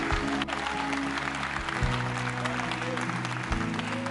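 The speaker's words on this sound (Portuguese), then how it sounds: "Então aplauda ao Senhor" A church congregation applauding during a worship service, dense continuous clapping that fills the room steadily from start to finish, with a low hum and murmur of voices underneath.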